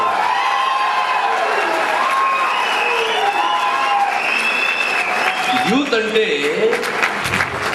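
An audience at a medical college golden jubilee celebration bursts into sustained applause with a few whistles after a speech line, loud and continuous, while a speaker's voice briefly rises over the clapping.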